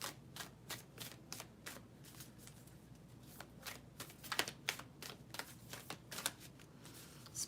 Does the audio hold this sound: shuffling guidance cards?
yes